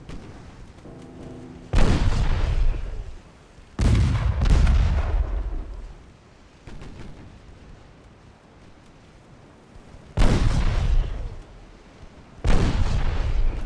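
Heavy naval artillery salvos in a warship battle video game with dreadnoughts and cruisers: four booming, rumbling blasts spaced several seconds apart, each with a long roll over steady wind and sea noise.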